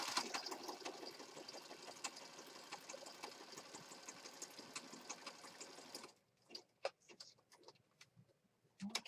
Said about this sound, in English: I just zigzag stitched around that